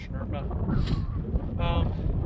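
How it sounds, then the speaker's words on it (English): Wind buffets a microphone on a hillside in a continuous low roar that swells and dips, with a person's voice faintly under it. "It's very windy."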